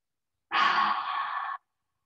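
A single long, deep inhalation during qi gong breathing practice, steady and close for about a second, breathy and full with no talking.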